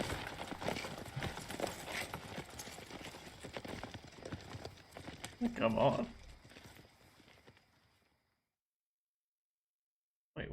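Horse hooves gallop in Red Dead Redemption 2, a steady rhythmic clip-clop running under game sounds and a player's speech before cutting out near the end.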